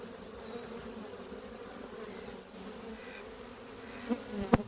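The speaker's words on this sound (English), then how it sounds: "look at the quality of my bees" Honeybees buzzing around a beehive on a farm, a steady close drone of many insects with a few louder knocks near the end.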